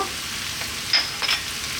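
Mushrooms and onions fry in a pan with oregano and spices, a steady close sizzle broken by a couple of brief utensil scrapes from stirring.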